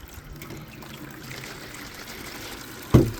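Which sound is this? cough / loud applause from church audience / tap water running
tap water running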